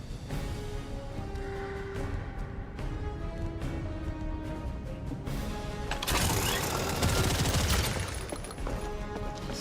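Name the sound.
gunshots from a weapon in video game The First Descendant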